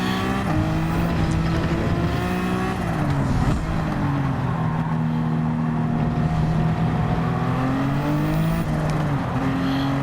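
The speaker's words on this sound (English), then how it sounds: "Cycling down through the gears all the way down to first. GTR getting that back end slid out slightly." A Nissan GT-R in Gran Turismo, its engine note stepping down through the gears with revving blips, then holding a steady drone as the back end slides out, loud and up close.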